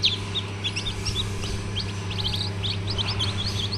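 Newly hatched Japanese bantam chicks peep in quick, high-pitched chirps, several overlapping, over a steady low hum, probably from a brooder or fan; no voices are heard.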